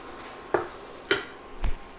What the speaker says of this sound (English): So I'm just going to put the noodles right into this pan with everything else.